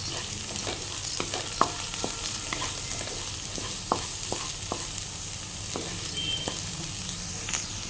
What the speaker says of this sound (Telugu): దొండకాయ ఎలా వేగుతుందో చూద్దాం పర్లేదు బాగా వేగుతుంది